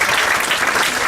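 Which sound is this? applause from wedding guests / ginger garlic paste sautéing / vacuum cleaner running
applause from wedding guests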